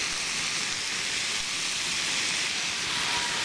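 Pork sizzling and frying in a pan while being cooked for babi kecap, a steady broadband hiss that holds evenly throughout, close and fairly loud with no talking.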